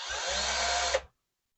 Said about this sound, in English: Maybe I better use a regular drill bit here.